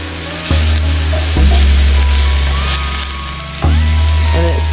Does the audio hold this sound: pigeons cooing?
no